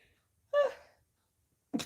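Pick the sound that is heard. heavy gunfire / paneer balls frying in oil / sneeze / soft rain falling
sneeze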